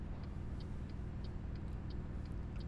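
A truck engine in the Euro Truck Simulator 2 driving game, a steady low rumble that holds at an even level, with faint periodic ticks sounding over it.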